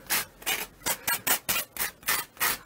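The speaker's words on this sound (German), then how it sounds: "Wir ziehen uns die Folie runter und dann schleifen wir die Kanten," Rhythmic back-and-forth rasping as the edges of a cast concrete fire bowl are sanded by hand, about ten even strokes, close and steady with no talk.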